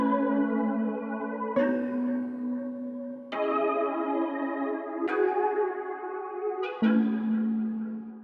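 Synth multi-key one-shots in Pigments triggered in random order, five separate sustained chord-like tones with sharp attacks, each ringing for about a second and a half before the next, clean and alone.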